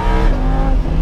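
A Lamborghini Huracan exhaust revs loud and close, with a deep, steady engine roar that stays strong throughout.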